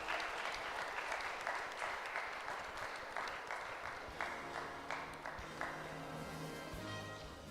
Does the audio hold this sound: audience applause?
yes